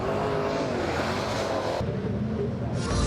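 New Zealand Super Saloon race cars roar off at the start of a championship race, a loud, continuous engine blare with a sudden change as the pack passes close, and a faint commentator voice underneath.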